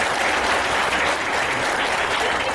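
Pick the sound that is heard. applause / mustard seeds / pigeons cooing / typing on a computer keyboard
applause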